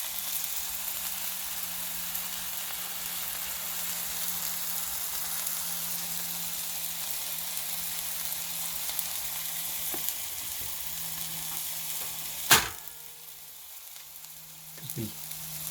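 Steaks sizzle steadily in a skillet in a cabin kitchen, a continuous loud hiss. A sharp knock near the end is followed by quieter sizzling, and a brief clatter comes after that.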